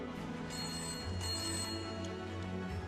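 A telephone rings in a Hindi-language film scene. Its repeated electronic trill comes in bursts over a steady tonal hum and stays fairly faint and even throughout, with no speech over it.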